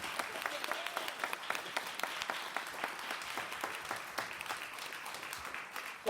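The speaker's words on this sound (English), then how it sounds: "Let's clap, y'all." An audience claps at a talk, giving a quick run of distinct, fairly light hand claps at a brisk, uneven rhythm for several seconds, with no talking over it.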